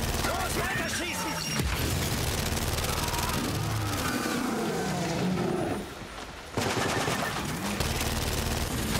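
Gunfire rattles in Gears 5, dense automatic bursts and explosions layered with game action, briefly dropping out near six seconds before resuming loudly to the end.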